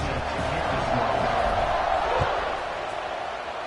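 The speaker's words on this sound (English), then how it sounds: "this crowd is buzzing after that last score" A college football stadium crowd at a UCLA at Washington game keeps up a steady, diffuse roar of murmuring voices after a score, holding level throughout and easing slightly toward the end.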